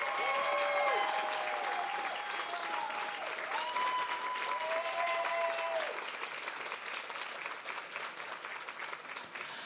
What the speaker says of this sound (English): Can we get one more hand of applause for all of our finalists and winners this evening?